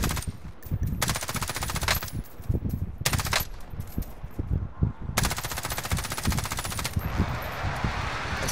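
Bursts of automatic gunfire in the video game Call of Duty: Modern Warfare, several long rapid-fire volleys separated by short gaps, loud and close, with scattered single shots and no voices.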